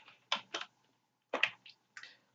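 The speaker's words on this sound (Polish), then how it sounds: "Wiem, że znowu walę w klawiaturę." A few quick bursts of computer keyboard typing during PC gameplay of Eternal Senia, close and crisp, separated by short pauses, with no talking.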